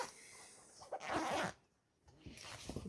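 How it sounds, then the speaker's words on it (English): A zipper on a fabric cover for an outdoor footstool cushion is pulled open in one quick, close rasp lasting about half a second, followed by quiet handling. "Open up your zipper."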